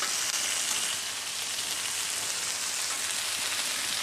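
Tortillas sizzle on a Blackstone flat-top griddle, a steady hissing, crackling fry that holds at an even, moderate level with no talk.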